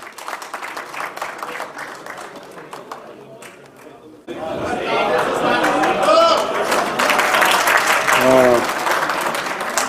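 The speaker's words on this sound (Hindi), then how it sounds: "तालियों की गूंज में इस्तकबाल करें" Audience applause breaks out to welcome a poet at a mushaira held at an Ayurvedic medical college in Muzaffarnagar, swelling suddenly from a quieter murmur into loud, sustained clapping with crowd noise and a voice heard over it.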